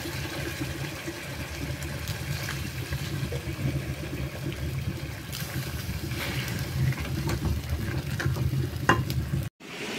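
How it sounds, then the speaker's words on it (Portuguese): Meat frying in a pan on a stove during a rustic country lunch cooking, a steady close sizzle with stirring scrapes, no talk, and a brief dropout near the end. "Aí a carninha já tá aqui fritando."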